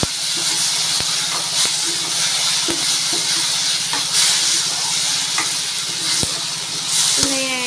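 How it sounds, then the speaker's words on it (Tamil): Vegetables, including eggplant, sizzle steadily in hot oil with salt and turmeric, with a constant bright hiss and occasional light clicks and scrapes of stirring, no voices. "நல்லா வதக்கிடலாம்"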